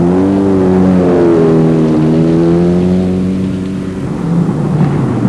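Mitsubishi Galant rally car with a detachable sump guard driving on open forest roads, its engine loud and close as it revs through rising and falling pitches before easing off and picking up again.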